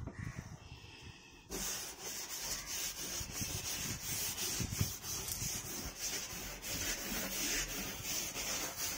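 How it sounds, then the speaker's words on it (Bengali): A hand rubs steadily over a surface in a home setting, producing a continuous scratchy, rasping friction sound with a rhythmic back-and-forth texture, close and fairly quiet, beginning after a brief quieter moment. "ভালো করে ঘষো"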